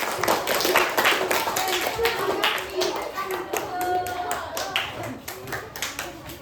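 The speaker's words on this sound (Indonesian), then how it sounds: "tepuk tangan dulu untuk Bapak semua" Children in a classroom clap their hands in a loose, uneven burst that fades toward the end, with young voices chattering over the clapping.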